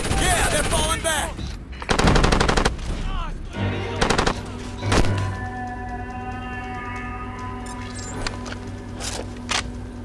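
Bursts of automatic gunfire from the video game Ghost Recon Advanced Warfighter 2 rattle loudly in rapid volleys, broken by single shots and pauses, with a low steady hum beneath and brief voices in between.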